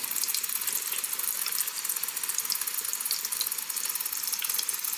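Water from a tap flowing steadily into a water dispenser tank, a continuous bright hiss and trickle with faint clicking, close and fairly loud, no speech.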